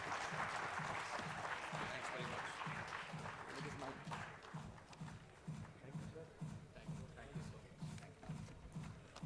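Conference audience applause, a broad clapping wash that fades into a quieter, steadier patter of hands with a rhythmic low thump running beneath, and some voices mixed in.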